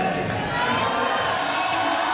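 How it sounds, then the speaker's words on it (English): A large arena crowd roars and cheers continuously at a men's synchronized 3m springboard diving event at the 2018 European Championships in Glasgow, a dense, steady wash of voices. "Up goes the big cheer"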